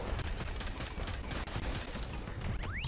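Rapid pistol fire from the Cocoa 45 in Fortnite Save the World, a dense, continuous volley of game gunshots with a whooshing effect near the end, faint and without speech.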